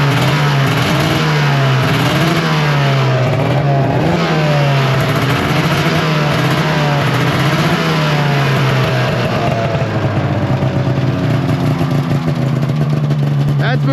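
An old Arctic Cat Firecat F6 snowmobile engine runs close by at a high idle, droning loudly and continuously with small rises and dips in pitch as it revs, a voice speaking faintly beneath the engine.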